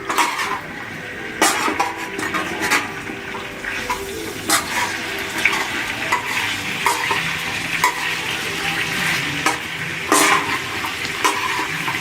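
Mutton karahi sizzles in ghee on a hot tawa while being stirred, with a continuous frying hiss broken by repeated scraping and clanking strokes of the utensil.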